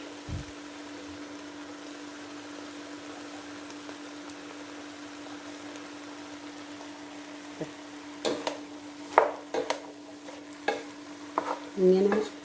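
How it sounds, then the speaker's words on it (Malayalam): Snake gourd stirred in a hot pan, a faint steady sizzle with a low hum beneath, then several louder spoon scrapes and clatters toward the end. "കടവിലിട്ടിട്ടൊന്ന് ഇളക്കിയേക്കണം അപ്പോൾ ചൂടുകൊണ്ട് പെട്ടെന്ന് കഴിയും"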